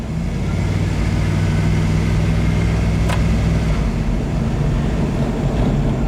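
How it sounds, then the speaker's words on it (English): A car's automatic transmission, a 4T65E or 4L60 controlled manually by joystick, shifts gears while driving, heard as a loud, steady low engine and road drone with a brief change near the middle and no talking. "I just wanted to see what it would do when it shifted, and it shifted fine"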